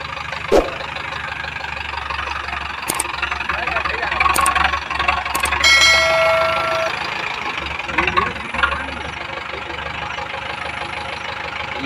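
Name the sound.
Mahindra tractor engine misfiring, diesel not reaching pump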